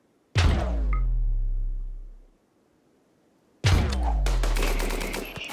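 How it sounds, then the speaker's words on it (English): Grenades burst in a RimWorld battle against Scythers: two separate heavy booms a few seconds apart, the first ringing out and fading, the second followed by a rapid burst of sharp gunfire-like cracks. "Keep chucking those nades."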